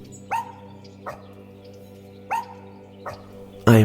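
A pet dog named B lets out several short, sharp barks at an uneven pace over a steady low hum, ending in one loud close bark.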